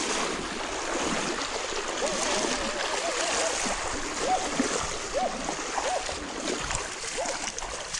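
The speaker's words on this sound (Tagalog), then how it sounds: "Lakas ng tulak ng tubig" Rushing, churning water of a strong river current, a constant broadband roar with splashing and faint bird calls above it.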